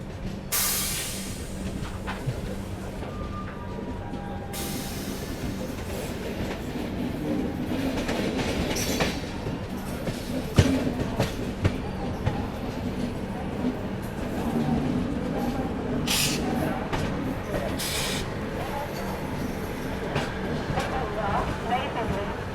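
A train rumbles past with steady rail noise and clattering wheels, hissing and clanking throughout, with voices faintly in the background.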